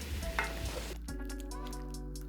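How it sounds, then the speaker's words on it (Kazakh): Tomato is stirred in a pot for rabbit-meat kespe soup, giving a soft sizzle and scraping in the first half before it quiets to a low steady hum with faint bubbling. "Және жақсылап араластыруды ұмытпаймыз."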